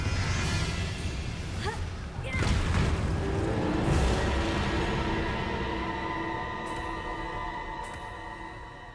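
A Confringo explosive spell from Hogwarts Legacy goes off as a deep boom with crashing impacts, followed by a long, fading rumble with ringing tones over a busy game background.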